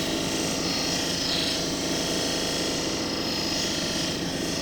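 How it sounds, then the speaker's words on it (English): A flat lap grinds and polishes a quartz cabochon, producing a continuous loud motor hum with a steady rasping, whirring texture that never lets up. "Flat lap."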